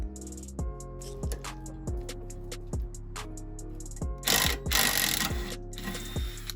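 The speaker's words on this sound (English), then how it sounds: "After I'd loosened the bolts, I then undid them the rest of the way with an impact driver." On a Ford Fiesta ST150, an impact driver backs out the rear shock absorber bolts in a string of short, sharp mechanical bursts with brief gaps between them, ending in a louder, longer rattling run.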